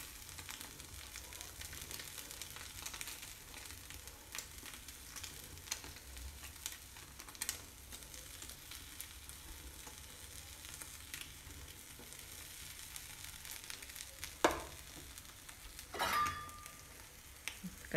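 Tomato and onion frying in a pan for a bread omelette, a soft, steady sizzle with occasional light clicks and a brief scrape near the end, fairly faint.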